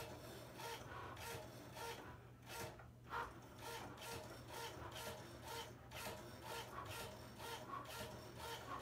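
A Cricut Maker's rotary blade cuts through felt with a quiet, rhythmic whirring and rubbing, repeating in short regular pulses as the machine moves.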